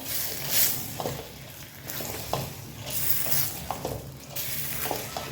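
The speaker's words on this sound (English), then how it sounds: "Give this a good mix until everything is nicely combined" Soaked rice is stirred into a sizzling cooking mixture, with scraping and stirring strokes in an uneven rhythm over a steady frying hiss, close and moderately quiet, with no talking.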